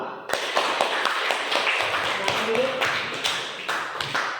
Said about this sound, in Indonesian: Kita berikan nilai aplaus untuk kelompok 2.